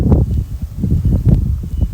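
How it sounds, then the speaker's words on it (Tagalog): Strong winter wind in Hokkaido buffets the microphone in heavy, rumbling gusts, loud and close, rising and falling throughout. "lakas ng hangin, oh"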